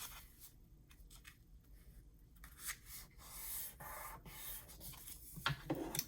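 Sheet of single-sided patterned paper being folded by hand for a gift pocket, with soft crinkling, rubbing and creasing strokes that come in several brief bursts, the loudest near the end, close by and with no talking.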